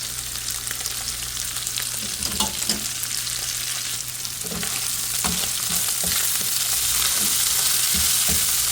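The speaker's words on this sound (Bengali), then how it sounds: "এদিক দিয়ে ছোটো মাছ রান্না করছি ভাজা ভাজা করব" Small fish frying in oil in a pan, giving a continuous close sizzle with scattered pops and spatters that grow slightly louder toward the end, with no voices.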